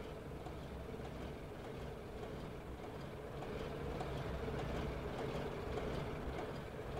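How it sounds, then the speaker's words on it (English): A smoky diesel train engine drones in a steady low rumble heard from inside, with a broad continuous roar that swells slightly partway through and no clear speech over it. "ik heb je smokende diesel weer hoor"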